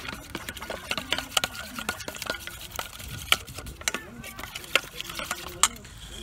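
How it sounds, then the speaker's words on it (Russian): A spoon stirs a thick honey and French mustard sauce in a bowl, with irregular clicking taps and soft scraping, close and fairly quiet. "Перемешиваю."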